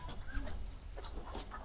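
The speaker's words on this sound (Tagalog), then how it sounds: "Kakaibang manok to." Short clucks and chirpy calls from an unusual-looking chicken at a farm animal area with goats nearby, a few irregular near calls over a low background rumble.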